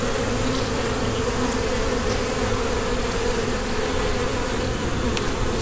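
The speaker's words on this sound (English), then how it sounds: "Several bees in this hive." Honey bees buzzing loudly and continuously during a warm-day hive inspection, a dense close-up drone with no talk over it.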